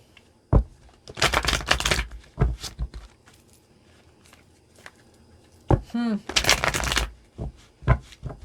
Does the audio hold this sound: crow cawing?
no